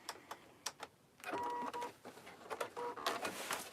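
A sewing machine stitching through an interfaced fabric tote bag, heard as faint stop-start mechanical whirring and clicking in short runs, quiet and close, with no talking.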